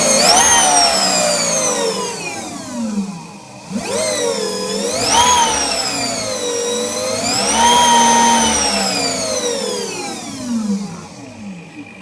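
A small liquid-cooled electric motor whines under throttle, its pitch sweeping up and down in repeated surges as it is given juice, loud and close with a smooth, tonal spin-up and spin-down and no talking.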